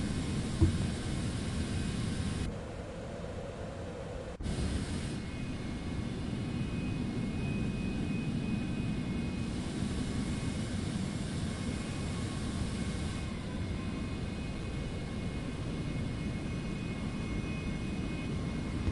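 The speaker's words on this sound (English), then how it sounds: "Okay, I'm going to just taxi out, Stone, if you're coming along." A Citation X business jet taxiing in Microsoft Flight Simulator 2024, its steady engine whine and broadband rumble holding constant and fairly loud throughout, with a brief dip in the middle.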